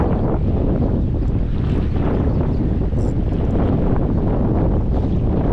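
Strong, steady wind buffeting the microphone outdoors near open water while ultralight fishing in the Philippines, a continuous loud roar with no break.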